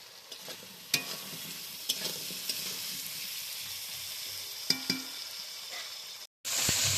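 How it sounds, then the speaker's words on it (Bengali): Onion and potato frying in a pan for a rita fish dish, with a steady close sizzle and scraping stir strokes roughly every second, then a brief gap before the sizzle returns louder. "এবার পেঁয়াজ আলুটা ভাজা হয়ে গেছে"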